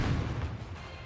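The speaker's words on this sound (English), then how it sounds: "An explosion detonates from Behemoth's head." A heavy, booming explosion bursts from Behemoth's head in the game NIKKE, loud and dense with a continuous rumbling roar that fills the whole moment.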